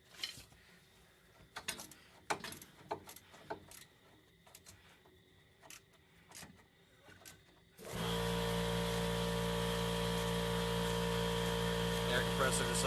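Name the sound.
air compressor kicking on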